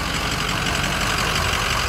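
A 2005 Ford F-250 with a 6.0 diesel engine, head studs, coolant and oil filtration and an aftermarket intake runs steadily in a close, continuous, dense rumble with no pauses.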